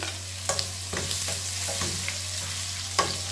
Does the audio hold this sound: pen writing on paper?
no